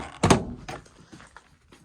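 Door of an older automatic pickup truck thudding shut with one solid clunk, followed by a softer second knock and faint rattles trailing off.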